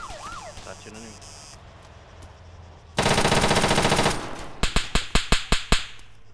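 Gunfire in the combat video game Arma 3 (Altis Life): a sustained loud burst of automatic fire, then a rapid series of about eight sharp separate shots, with a faint beeping tone earlier and no talk.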